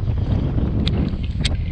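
Wind buffets the microphone on a boat out on Lake Vänern during pike fishing, a constant low rushing rumble with a couple of faint brief ticks over it and no voices.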